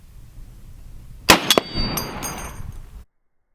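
A heavy sniper rifle bullet strikes a stainless steel plate outdoors: a single sharp crack and metallic clang, a couple of quick follow-up knocks, then a short ringing tail before the sound cuts off.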